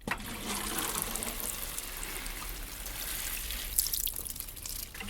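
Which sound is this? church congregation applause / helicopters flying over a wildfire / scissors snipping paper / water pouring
water pouring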